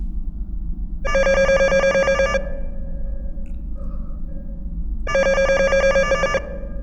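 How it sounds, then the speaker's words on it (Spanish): A telephone bell rings loudly in two long bursts separated by a pause of a few seconds, set against a low steady background in a horror story. "Fue en ese instante que sonó el teléfono y todos temimos lo peor."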